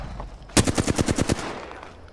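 A quick burst of about eight loud automatic gunshots in Apex Legends, close and evenly spaced, which then cuts off into quiet background.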